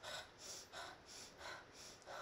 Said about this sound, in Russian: Я дышу специально громко